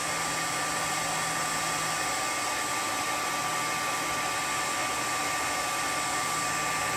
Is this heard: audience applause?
no